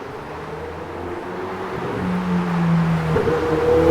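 A supercar passes along a city street during a walk near St Clair West and Avenue Road in Toronto, its engine tone rising and swelling as it approaches, steady and fairly close over background traffic.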